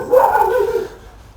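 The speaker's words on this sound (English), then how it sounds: "The dogs decided to chase something around the back garden." Dogs chasing something around a back garden let out one short, close, loud bark that slides into a whining yelp and then fades.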